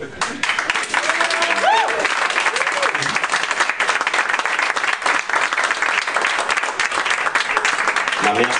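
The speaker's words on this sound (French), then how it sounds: "Ce serait d'applaudir" Audience applause at an evening stage show, sustained dense clapping throughout at close range, with a few voices and whoops rising over it early on.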